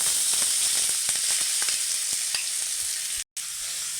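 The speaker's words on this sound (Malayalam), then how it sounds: "അങ്ങനെ റെസ്റ്റ് ചെയ്യാൻ വെച്ച് നമ്മൾ ക്യാബേജും കൊഞ്ചും കൂടെ ഇടുകയാണ്." Cabbage and prawns fry in coconut oil with a close, busy sizzle and crackle, punctuated by stirring scrapes and ending in a short sudden gap before the hiss resumes.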